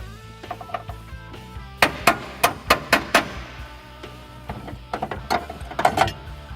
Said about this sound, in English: you're going to take a drift and a hammer and just tap it out.